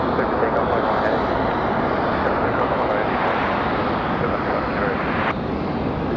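An Air France heavy airliner taking off at Raleigh-Durham airport, its jet engines a loud, steady roar with broad rushing noise that holds throughout.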